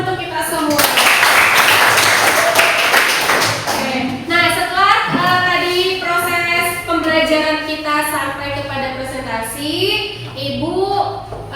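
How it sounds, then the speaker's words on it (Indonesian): Students in a classroom burst into clapping for a couple of seconds, a loud, close flurry of hands, before it fades and the teacher carries on talking over the room. "Ibu minta kasih tepuk tangan untuk kita semua"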